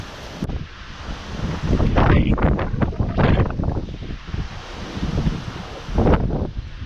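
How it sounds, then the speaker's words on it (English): Severe windstorm gusts of up to 80 mph at night, heavy roaring blasts buffeting the microphone in surging waves, rising and falling in strength. "this is definitely severe wind"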